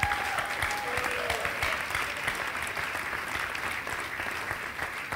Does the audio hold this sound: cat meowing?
no